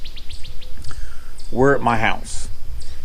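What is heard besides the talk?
birds chirping outside house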